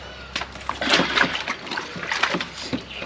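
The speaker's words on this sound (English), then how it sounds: "now that I've dropped my soap" A bar of soap splashes into laundry water outdoors, followed by a few sloshing, splattering movements of water in a washing basin, close and moderately loud with no talk.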